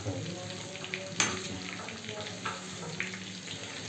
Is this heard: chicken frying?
yes